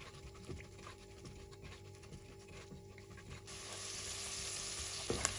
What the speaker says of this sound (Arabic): كمان بحط البصل والثوم، بقليهم على الغاز